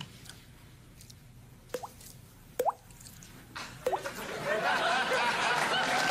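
A man imitates water dripping with his mouth, making three or four distinct plopping drip sounds spaced apart, followed by audience laughter and applause rising at the end.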